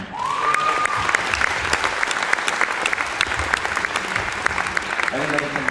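Steady audience clapping for senior members of a high school symphonic, concert and jazz band at a year-end event, dense and continuous throughout, with a voice briefly audible near the end.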